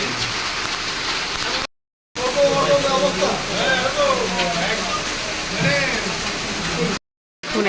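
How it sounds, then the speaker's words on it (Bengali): Heavy rain pours down outdoors at a crowded Ramakrishna Mission, a dense, steady hiss that fills the scene, broken by two brief silent gaps, with murmuring voices in the background. "মুষলধারে বৃষ্টি চলছে বাইরে"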